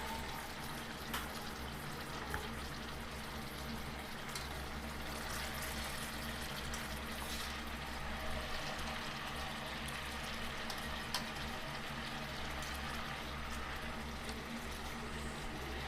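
Masala with tomato, biryani spice and salt roasting in a pan with a splash of water for vegetable rice, a soft continuous sizzle and bubbling under a low steady hum, with occasional faint clinks.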